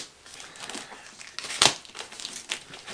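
Plastic wrapping crinkles while a Godox AD600B monolight kit is unboxed from its suitcase case, with soft rustles and one sharp, louder crackle near the middle. The sound is close and quiet, with no talk.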